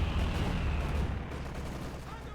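Battle gunfire and heavy artillery from the WWII strategy game Company of Heroes 2, a dense, continuous rumble of shots and low booms that stays steady and moderately loud for a couple of seconds, with no clear pause.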